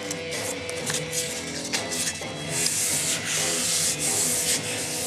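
Folded sandpaper rubs steadily back and forth in a garage, giving a continuous close, loud scratchy hiss that swells slightly in its second half, with no voices.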